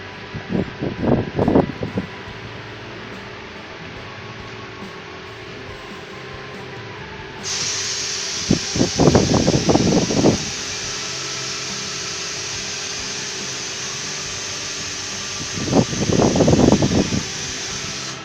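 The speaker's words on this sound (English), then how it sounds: "This is the extractor, which is basically creating vacuum" A steady mechanical whir of a vacuum extractor bleeding the brakes on a Royal Enfield motorcycle runs throughout, shifting to a higher hiss midway, with a few short rustling bursts on top.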